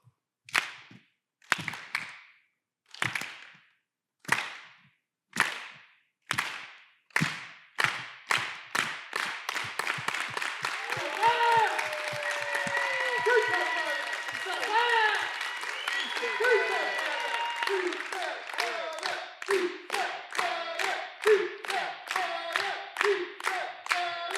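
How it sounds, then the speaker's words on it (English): An audience at an Earth Day keynote doing a unity clap: sharp, separate claps start slow and evenly spaced, then speed up into a rapid, loud run, with cheering voices mixed in. "You guys want to do the unity clap?"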